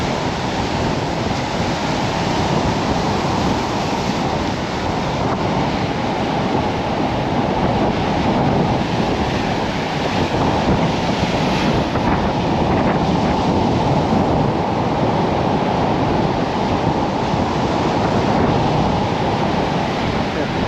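Wind and waves at sea during kitesurfing, a constant loud rush of wind buffeting the microphone over breaking surf, steady throughout with no clear talk.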